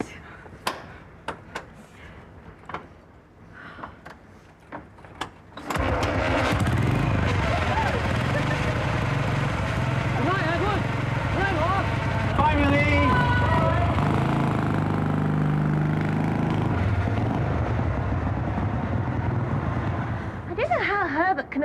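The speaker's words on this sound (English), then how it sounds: "I don't know how Herbert can afford a motorbike" A motorbike engine sound effect in a 1980s radio drama of an Agatha Christie story, running steady and loud for most of the clip after quieter moments at the start.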